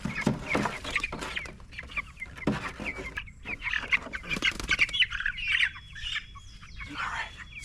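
Meat chickens squawk and cluck up close, a flurry of overlapping loud calls and chatter that continues throughout, with one bird's sustained squawk standing out near the end.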